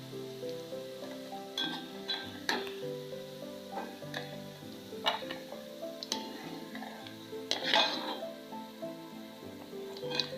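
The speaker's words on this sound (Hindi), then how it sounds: "लहसुन को हमने फ्राई करना है, थोड़ा सा फ्राई करना है बिल्कुल।" Garlic fries gently in oil, a faint, low, continuous sizzle with scattered small pops and ticks, heard close but at a quiet level throughout.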